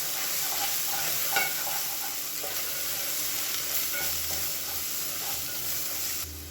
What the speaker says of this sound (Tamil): இப்போ அதில் ஒரு 75 கிராம் அளவுக்கு இஞ்சி பூண்டு பேஸ்ட்டு சேர்த்துக்கலாம். இதையும் சேர்த்து நல்லா வதக்கிக்கலாம்.